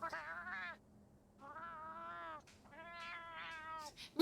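A cat meowing in the game Monster Hunter Wilds, three drawn-out, whiny meow phrases with short pauses between, fairly close and clear.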